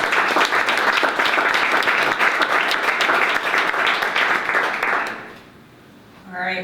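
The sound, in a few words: audience applause at pitch day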